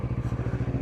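Small Vespa moped engine idling roughly, a close, steady rapid low thumping putter with a rattly, uneven beat throughout a brief moment.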